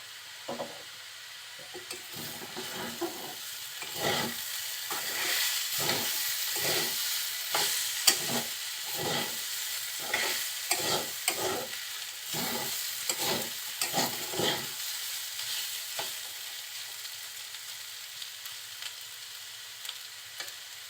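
Small new potatoes fry in a pan, stirred in a regular rhythm of scraping strokes over a steady sizzle for most of the stretch, then only the sizzle continues after the stirring stops.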